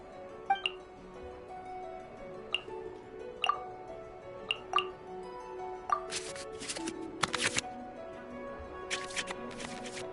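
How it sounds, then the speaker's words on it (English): Cards being shuffled back into the draw pile in the Genshin Impact digital card game, heard as sparse crisp clicks and chimes followed by a couple of short bright swishing bursts, close and clear with no talk. "we can select any number of cards in our hand to shuffle back into the draw pile, and then draw the same number of new cards"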